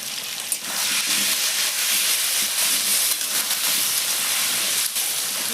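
Potatoes fry in oil with salt and turmeric, giving a steady, fairly loud sizzling hiss that holds evenly throughout with hardly any break. No one speaks.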